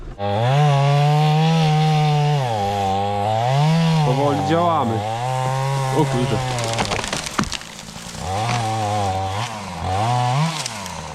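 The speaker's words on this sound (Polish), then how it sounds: "ja chyba wezmę nawet piłę i spróbuję porobić te grubsze gałęzie" A chainsaw roars close by cutting thick branches, its engine pitch rising and dipping as it bites into wood, with a brief sputter midway before revving again.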